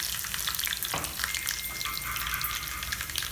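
Garlic cloves frying in hot oil for a red chilli pickle, giving a steady close sizzle with a brief stirring scrape near the start and no talking.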